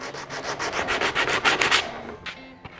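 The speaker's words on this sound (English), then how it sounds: "I got sandpaper block, and the coarse sandpaper will take it off." Coarse sandpaper on a sanding block scrubs a decal off a Honda Shadow motorcycle, a steady run of close, rhythmic back-and-forth rasping strokes that stops near the end, leaving only a couple of faint knocks.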